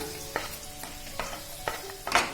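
Cashews and raisins frying in a pan for payasam, with soft scraping stir strokes repeating roughly every half second over a low sizzle, close and fairly quiet.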